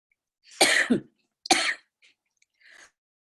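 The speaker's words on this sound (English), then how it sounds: "I've got this horrible cough that kicks in every time I want to say something." Two harsh, close coughs in quick succession during a spoken podcast, followed by a faint throat-clearing rasp, in otherwise quiet surroundings.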